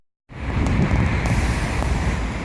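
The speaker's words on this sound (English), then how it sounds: "One thing I've noticed about bridges, with traffic going across, they're bloody noisy." Traffic crossing a small bridge over a canal with barges in Düsseldorf makes a continuous loud, close roar of passing vehicles, with a few sharper knocks as wheels hit the deck.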